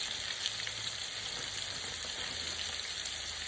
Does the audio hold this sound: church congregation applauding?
no